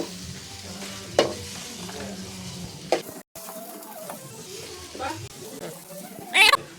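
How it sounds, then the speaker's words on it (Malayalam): Chopped onions sautéing in oil in a pan for chicken curry, a soft, continuous sizzle with scraping stirs and a few clinks, under a voice that talks quietly through much of it. "അരിഞ്ഞു വെച്ച കുറച്ച് സവാള ഇടുകയാണ് നമ്മൾ ചിക്കൻ ആവശ്യമായിട്ടുള്ള സവാളയാണ് ഇടുന്നത് ഇനി ഇതൊന്ന് വഴണ്ട് വരണം"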